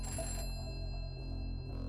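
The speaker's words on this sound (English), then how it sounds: "the phone rings" A telephone rings at a sheriff's office in the afternoon, a steady electronic bell tone that holds for about two seconds, clear and fairly loud with no talking.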